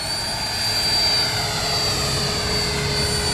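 A model airplane comes in to land, its small engine making a steady, even buzzing drone that stays fairly loud and constant with no voices.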